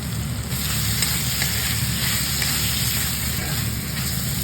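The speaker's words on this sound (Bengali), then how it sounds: "দিয়ে দেবো লঙ্কার গুঁড়ো, ধনের গুঁড়ো, জিরের গুঁড়ো, ভালো করে কষিয়ে নেব" Spiced tomato masala of chili, coriander and cumin powder sautéing in a pan, a steady close sizzle and frying hiss running throughout with light stirring.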